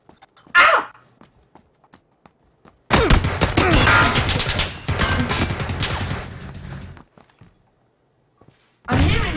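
Loud bursts of PUBG gunfire, a rapid automatic volley lasting several seconds with a short break, then another burst cutting in, preceded by a brief isolated shot and mostly clear of talk.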